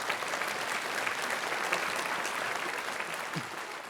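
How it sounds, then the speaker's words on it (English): A crowd applauds steadily for several seconds, the clapping dense and even throughout without any talking. "Can we give them a round of applause?"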